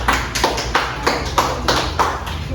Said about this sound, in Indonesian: Ya, tepuk tangan buat kelompok satu